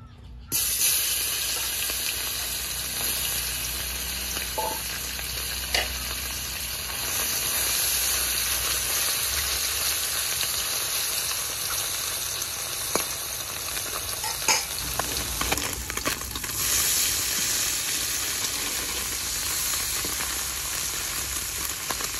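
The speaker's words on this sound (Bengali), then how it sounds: "মাছ ভালো করে মেখে নিয়েছি, এদিকে তেলও গরম হয়ে গেছে। এবার তেলে ছেড়ে দেব মাছগুলো।" Puti fish, rubbed with salt and turmeric, fry in hot oil for a radish chorchori, giving a steady, loud, continuous sizzle with crackling pops and occasional spatula scrapes throughout.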